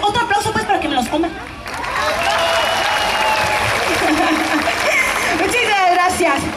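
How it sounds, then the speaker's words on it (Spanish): A concert audience at an evening seaside show breaks into a broad, sustained round of applause and cheering after a brief spoken introduction, the clapping dense and loud for several seconds. "A ver, otro aplauso pues para que me los coman."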